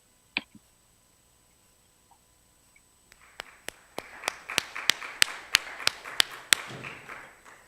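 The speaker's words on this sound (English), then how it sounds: "People are clapping." A small audience claps after a conference presentation, starting with a few isolated taps and then a sparse, uneven patter of hand claps for about four seconds, fairly faint.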